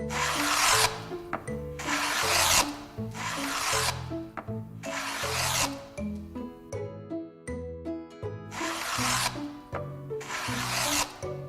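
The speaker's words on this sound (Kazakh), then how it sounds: "Мынау жоңғы. Жоңғымен жонады." A wood plane shaves a board in repeated long rasping strokes, each about a second, with a pause midway. A tonal music bed plays beneath.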